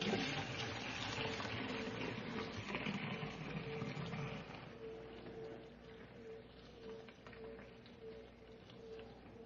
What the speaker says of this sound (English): Now I'm ready to pour them into my containers here.